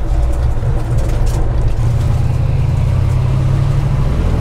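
1961 Pontiac Catalina with a 421ci engine and four-speed gearbox driving, a loud, close, steady low engine rumble that settles into a lower pitch partway through as a gear changes.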